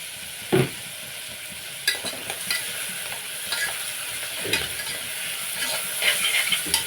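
Sliced onions sizzle in an oil-filled pan with turmeric and salt, under a soft steady frying hiss broken by scraping stirs from a spoon.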